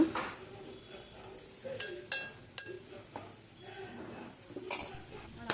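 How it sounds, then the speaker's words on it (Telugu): Onions fry until brown in a pan for Afghani mutton curry, a soft sizzle under intermittent stirring clinks and scrapes of a utensil against the pot. "సో అలా బ్రౌన్గా వేగేదాకా వేపుకోవాలి ఆనియన్స్"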